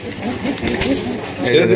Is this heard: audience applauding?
no